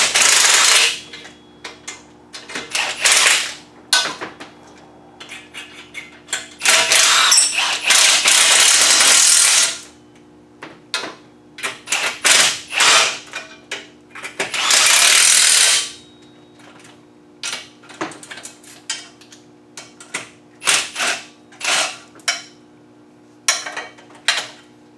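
A ratchet clicks in rapid bursts while tightening header bolts on a 1999 Toyota Camry demolition derby car, with long buzzing runs of the pawl, metallic clinks from tools and parts, and brief pauses between strokes.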